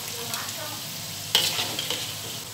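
Potato pieces, half-cooked, fry in hot oil with a steady, dense sizzle, close up, and a brief sharper crackle midway as they are stirred.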